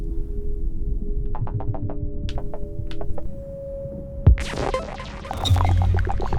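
Soft, bubbly synthetic tones from the Softpop 2 synth through FabFilter with reverb, with sustained hums and scattered pops, ending in a washy burst of reverb-drenched noise.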